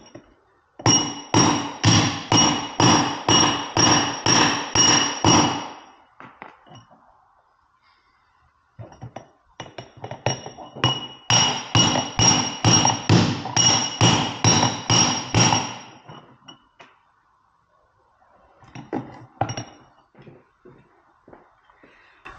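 Hammer blows knock out the differential of a Harley Davidson trike: two long runs of rapid, evenly spaced metallic strikes, about a dozen each, then a few scattered taps, close and loud.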